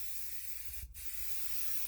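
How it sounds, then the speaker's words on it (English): Oil-based Rust-Oleum 2X Ultra Coverage spray paint hisses onto canvas in a steady, soft spray lasting about two seconds, with a brief dip midway, faint and without voices. "And yes, I'm using oil-based spray paints."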